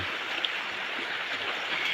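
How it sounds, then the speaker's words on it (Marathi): A steady rush of a village river flowing, continuous and even, with no voices. "हे बघा हे आमच्या गावचं नदी."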